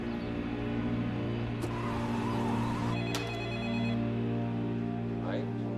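A telephone rings over a steady bed of music and background noise during a tense kidnapping case, with the kidnappers calling again; the ring is moderately loud and repeats across the stretch.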